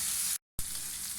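Liver with chopped green chillies frying and being stirred on a tawa, a close steady sizzle broken by one very short gap.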